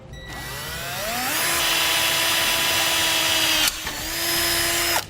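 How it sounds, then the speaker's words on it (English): A power drill bores a small pilot hole into the steel bumper beam of a 2014 Jeep Grand Cherokee. The motor whines up to a steady high-pitched grind, dips briefly, resumes and then stops abruptly. "So we'll start by making a small pilot hole."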